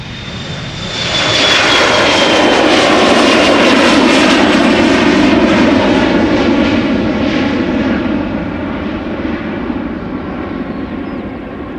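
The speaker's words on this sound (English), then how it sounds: "This is KLM flight 1753 to Hamburg, another Embraer 175." A KLM Embraer 175 jet passes loudly overhead, its engine roar swelling fast with a descending whine, holding strong for several seconds, then easing off as it moves away, with no talk.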